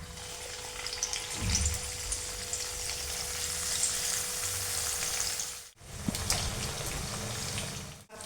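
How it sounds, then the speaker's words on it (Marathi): Thin slices of bottle gourd fry in hot oil with a loud, even sizzle, close to the listener. The hiss cuts out briefly and then resumes. "भोपळा स्वच्छ धुवून असे पातळ काप करून घेतलेत आता हे सुरुवातीला तळून घेणार आहे मी"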